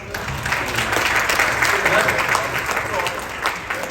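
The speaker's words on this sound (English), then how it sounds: "Can we give that man a clap?" Audience clapping for a speaker at a talk on storytelling in writing, a brief burst of applause with a voice carrying over it.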